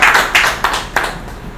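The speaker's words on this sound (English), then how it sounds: "Please give yourselves a hand clap for that." Graduates at an academy graduation ceremony clap in four distinct bursts, close and fairly loud, each burst fading quickly before the next, with no talk over them.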